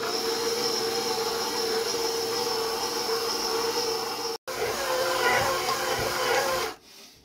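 A stand mixer kneading garlic parmesan bread dough, a steady loud motor whine with rhythmic churning, briefly cutting out before resuming and then winding down at the end.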